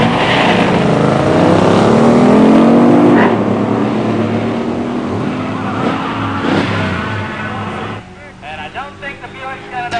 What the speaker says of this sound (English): In the near lane, Tom Kelly's 68 Roadrunner HEMI automatic. In the far lane, Linda Jacobs' 70 Grand Sport Stage 1 automatic.